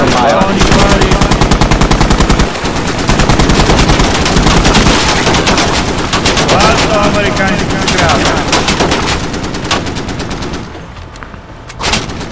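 Sustained rapid machine-gun fire in the video game Squad, loud and relentless, with dense bursts of shots rattling continuously before tapering off near the end.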